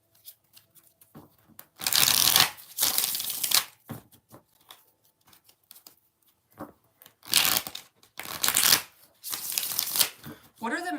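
Tarot cards being shuffled by hand in bursts of crisp riffling and flapping, two main loud stretches with quieter card handling between, close to the microphone.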